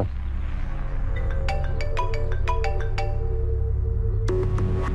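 A melodic phone ringtone chimes in a rising pattern of bright tones over a steady low hum, pauses, then starts again near the end.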